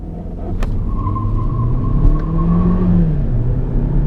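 An Opel Astra 1.6 Turbo 200 HP OPC Line car engine revs up and accelerates hard, a rising low roar building steadily over several seconds, close and loud.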